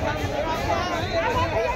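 A dense crowd at a BJP swearing-in ceremony at Ramlila Maidan, Delhi, fills the air with steady, close hubbub: many overlapping voices form a continuous babble with no single voice standing out.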